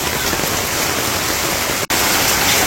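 Heavy rain pours steadily in rural Bangladesh during the rainy season, a loud, dense wash of falling water with a brief dropout near the end.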